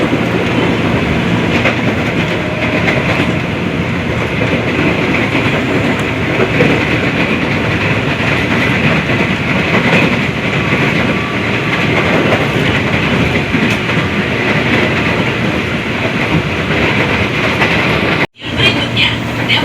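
A KRL commuter train on the Bogor Line rumbles steadily near Depok, with a loud continuous roar and faint clickety-clack of wheels heard from inside the carriage, cut by a brief dropout near the end.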